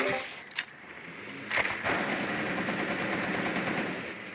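Gunfire in Rainbow Six Siege: a couple of sharp shots followed by a rapid, steady burst of automatic fire that rattles on to the end, with no speech over it.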